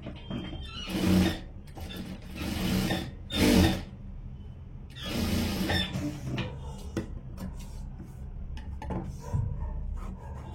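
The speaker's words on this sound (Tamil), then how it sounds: "இன்னொரு தையலும் போட்டுடுறேன்." Sewing machine stitching an aari work blouse, giving a few close, clattering runs of mechanical stitching separated by short pauses and quieter handling sounds.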